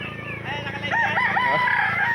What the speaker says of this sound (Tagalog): Yan, may mga manok pa guys.